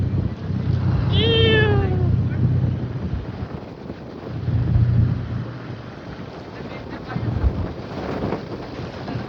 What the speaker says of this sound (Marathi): फुल जोरात हवा चालू आहे मित्रांनो.